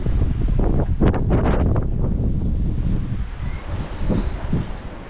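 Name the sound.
wind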